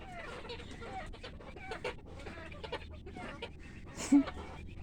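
Kaveri breed chickens cluck faintly in the background amid a murmur of talk and household noise, with one brief louder squawk near the end.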